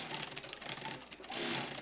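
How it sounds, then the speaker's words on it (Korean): A sewing machine runs steadily in a bag-making workshop, a continuous whirring rattle at a moderate level that swells slightly louder toward the end, with no voices. "아침부터 재봉틀 앞에 앉아 분주합니다"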